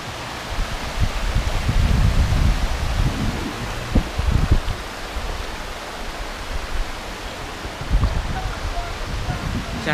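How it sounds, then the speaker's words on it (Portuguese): Cachoeira do Paredão, a very tall waterfall near Guapé, gives a steady broadband rush heard from a distance, broken by low wind buffeting on the microphone and people talking nearby. "A cachoeira é ali, ó."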